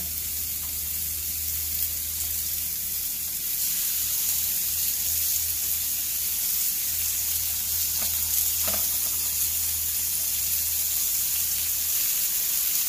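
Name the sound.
chicken sizzling on hot grill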